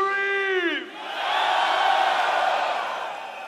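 At a live concert in Berlin, a whole audience erupts into a loud, sustained scream after a brief shouted cue, the roar of many voices swelling and holding steady to the end.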